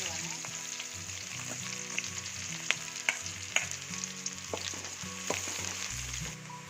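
Chopped shallots frying in ghee and coconut oil with mustard seeds, a strong close sizzle with scattered stirring clicks and spoon taps, no voices.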